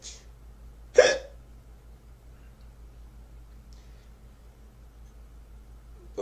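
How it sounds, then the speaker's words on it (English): A single sharp hiccup, close and fairly loud, stands alone in a quiet night-time outdoor setting with faint background hum, followed by long silence. "Now I got the hiccups."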